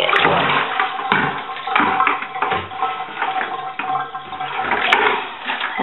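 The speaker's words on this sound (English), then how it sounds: "we're just going to dump this bucket load" Cloth diaper rinse water from a bucket dumped out in a last rinse, a continuous rushing, splashing pour that stays loud and steady for several seconds, with no talking.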